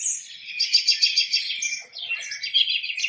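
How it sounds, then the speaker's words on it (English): Birdsong alarm tone from the Alarmy phone app, a dense run of high chirps and tweets playing continuously for a few seconds, close and fairly clear with no talking. "in the morning, like I'll barely hear, and then I slowly start to hear birds"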